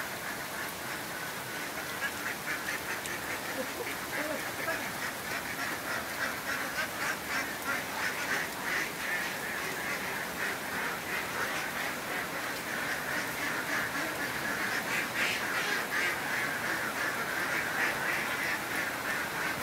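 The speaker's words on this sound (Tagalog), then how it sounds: "Pupuntahan natin kung paano maglagay ng itek sa kanilang kulungan" Layer ducks quack loudly and continuously, a dense overlapping chorus close by as they are put into their pen on a duck farm.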